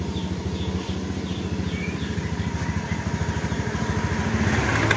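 A Honda Beat ESP scooter engine that stalls when throttled runs close by with a rough, rapid pulsing putter that grows slightly louder toward the end, with faint chirps in the background.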